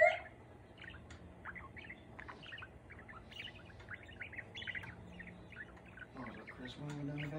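A pet bird chirps indoors in short, bright tweets and squeaky calls scattered across several seconds. The calls are fairly faint over a low room hum, and a few louder, harsher notes come near the end.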